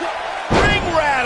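In the wrestling video game WWE 2K19, a wrestler crashes onto the ring with one loud, sharp slam followed by a short rattling rumble of the mat and ropes.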